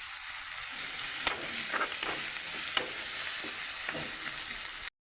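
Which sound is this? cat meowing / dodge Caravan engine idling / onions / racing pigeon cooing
onions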